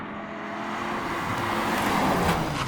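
A car engine revs and builds nearby with a rising whine and tire noise, growing louder over a few seconds as the vehicle swings around in a handbrake turn.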